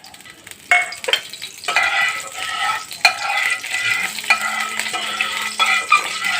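Three spoons of mustard oil sizzling in a pan over a raised gas flame, a loud close crackle punctuated by metal spoon taps and stirring scrapes, with no talk.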